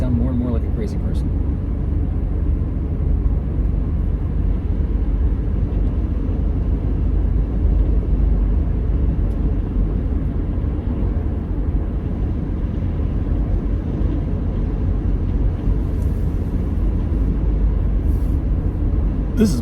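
A car's interior hums with a steady, continuous low road-and-engine rumble for the whole stretch while it drives, with a voice talking at times over it.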